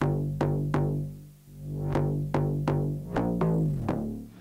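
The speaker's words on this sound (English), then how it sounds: "I also have some reverses into some of the notes of the bass line." Bass line notes in an electronic dance track, some of them reversed so they swell into their attacks, sounding as a series of regular pulsing notes over a sustained low hum at moderate level with no voices.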